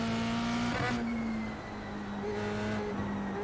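An F3 race car in iRacing drives with a steady high-pitched engine whine that shifts pitch as it brakes and accelerates through corners, alone without talk.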